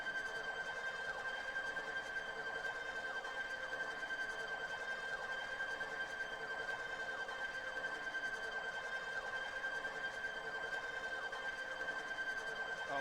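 Experimental noise performance generated by a roguelike video game: a steady, fairly quiet wash of dense electronic noise with a piercing high whine running through it, unchanging for thirteen seconds with no talking.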